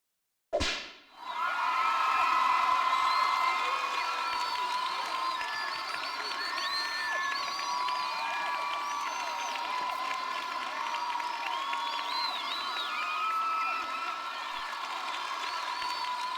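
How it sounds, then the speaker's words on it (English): A large crowd cheers and shouts continuously in a game setting, opening with a sharp hit before a dense, sustained roar of voices and whistles that carries on at steady volume without pause. "cheering goes on for super long"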